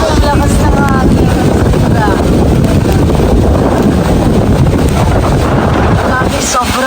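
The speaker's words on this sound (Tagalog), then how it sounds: "Grabe ang lakas ng hangin." Strong wind in heavy rain blasts across the microphone at an outdoor 18th birthday celebration, a loud continuous roar with no letup, while faint voices call out underneath.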